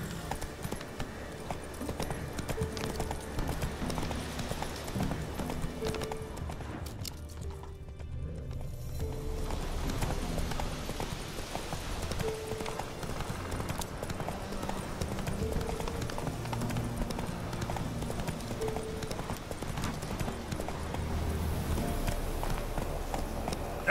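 Galloping horse hooves clip-clop in a steady rapid rhythm across The Witcher 3 video game, with an occasional neigh, under continuous game music and ambience.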